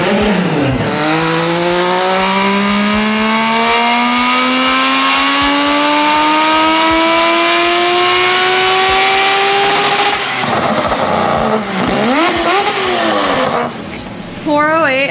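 A three-rotor Mazda RX7 with a big turbo revs hard on a dyno, a loud, rising, buzzy engine note climbing for about ten seconds, then dropping off into sharp blips and crackles near the end.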